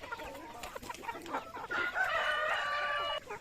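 Native chickens and roosters outdoors in the rural countryside, with a rooster's loud drawn-out crow rising over scattered clucking, fairly close and without talk.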